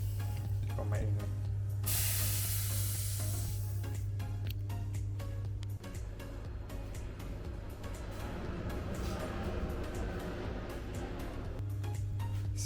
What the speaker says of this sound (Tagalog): Spray ng mantika.